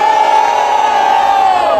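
A live crowd at a Brazilian freestyle rap battle cheers and shouts loudly and continuously, a dense roar of voices filling the space without pause.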